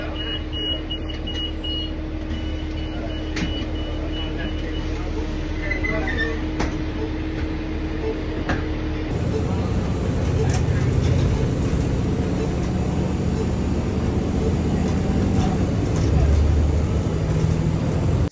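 Interior of a moving bus: a steady engine rumble and road noise, with occasional rattles and a shift to louder, rougher running partway through, and a voice faintly present.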